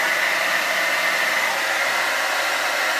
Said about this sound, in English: so like hair dryers